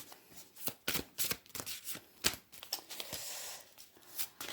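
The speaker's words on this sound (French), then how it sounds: "je vais vous tirer déjà 3 cartes, et c'est vous qui allez choisir la carte qui vous attire le plus" Tarot cards shuffled and drawn by hand, a rapid run of crisp riffles and flicks with irregular bursts, close and fairly quiet, with no talking.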